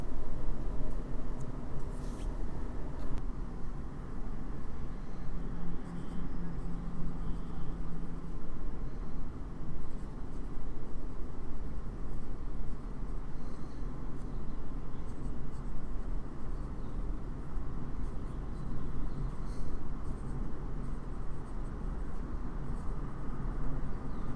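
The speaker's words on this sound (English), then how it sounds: "So now that it's all inked up, let's give you a little writing sample." A Parker Vacuumatic fountain pen, freshly inked, writes a sample on paper, giving a continuous soft scratching under steady room noise for over twenty seconds.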